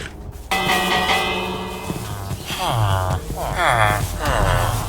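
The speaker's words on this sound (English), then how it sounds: "just as he was about to go play again, a loud bell rung." A village bell in the video game Minecraft strikes with a sudden clang, then rings on with sustained, shimmering tones that swell and fade over several seconds.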